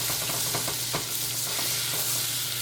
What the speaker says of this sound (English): Put your heat in a medium heat. You melt your butter.